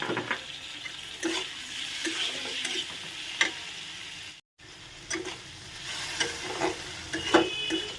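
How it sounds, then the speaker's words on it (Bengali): Salt-and-turmeric-marinated shrimp hit a pan of softening onions, sizzling steadily while a spoon scrapes and stirs in irregular strokes, with a brief silent cut partway through. "নুন হলুদ দিয়ে মাখানো চিংড়ি মাছটা দিয়ে দিলাম"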